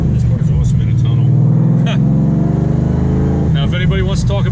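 A supercharged 750-horsepower Mustang GT 5.0 Coyote V8 with a six-speed revs hard inside a tunnel, holding a loud, echoing roar before a shift, then crackling and pulling again.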